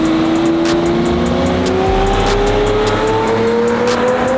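A Lamborghini Murciélago SV engine revs up, its pitch climbing steadily in a loud, continuous roar, recorded close by.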